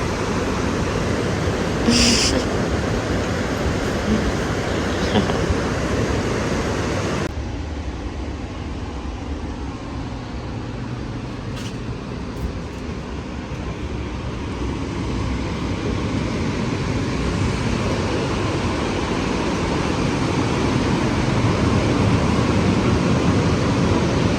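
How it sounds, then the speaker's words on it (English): Steady broadband roar of ocean waves near a surf lodge close to Uluwatu, Bali, heard during dinner, a continuous wash of surf with a brief dip partway through and no talk. "Listening to the waves whilst I eat my dinner, which is very lovely."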